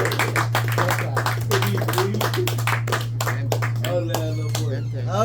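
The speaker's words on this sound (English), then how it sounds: "let's just give a round of applause to Diego for being brave" A classroom of students claps for a classmate after a calculus lesson question, a short burst of scattered hand claps over a steady electrical hum, with voices talking toward the end.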